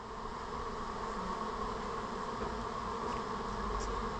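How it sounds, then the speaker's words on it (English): A honey bee swarm pours out of a top bar beehive, making a steady dense buzzing drone that stays even and continuous from start to finish. "he spotted this swarm happening from the top bar beehive"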